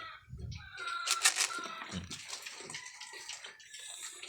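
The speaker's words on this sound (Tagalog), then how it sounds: "Buhusan natin ng tubig." Water poured from a container splashes onto a dirty floor being cleaned, a few uneven gushes and splatters heard up close with no talking.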